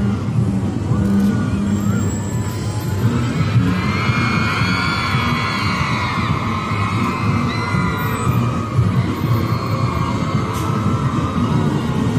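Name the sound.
armoured vehicle transporter trucks driving in a parade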